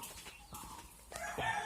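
Poultry clucking at a small farm where a hen is settling in to lay eggs, short soft clucks and a few louder calls close by, with no speech.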